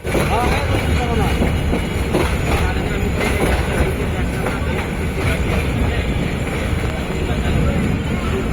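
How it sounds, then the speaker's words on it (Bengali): A large passenger train in Chittagong rumbles past close by with a loud, continuous roar and faint rhythmic wheel clatter for several seconds, with wind buffeting the microphone and voices partly mixed in. "বড় ট্রেন এটা"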